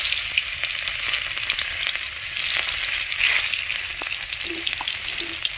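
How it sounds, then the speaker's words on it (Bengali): Panch phoron and chopped onion frying in mustard oil in a kadai, giving a steady, fairly loud sizzle with occasional stirring scrapes and small pops, no voices. "আমি কড়াইতে সরষের তেল দিয়ে দিয়েছি। প্রথমে দিয়ে দেবো 5 ফোড়ন, তারপরে দিয়ে দেবো পেঁয়াজ কুচি"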